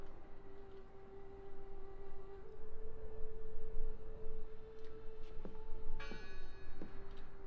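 Bell ringing in the video game Draugen, a faint sustained tone with a few sharper metallic strikes near the end over a quiet, dark ambient bed.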